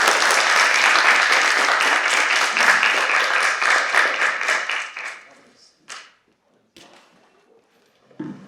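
Audience applause at an art lecture, loud and dense for about five seconds before fading out, followed by a few scattered claps and brief voices in the quiet room.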